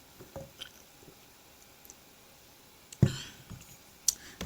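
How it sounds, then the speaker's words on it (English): Someone takes a sip of water and swallows: faint wet mouth sounds, then a sudden close slurp and gulp, with quiet clicks around them. "I had to take a sip of my water."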